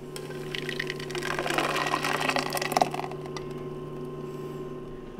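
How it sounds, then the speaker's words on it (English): Blended asparagus soup poured from a blender back into a pan, a thick liquid pour with splashing and gurgling that swells for a few seconds, then tapers off under a steady appliance hum. "I'm gonna pour this back in my pan over here and then do the other half."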